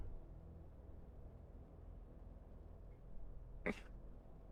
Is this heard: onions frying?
no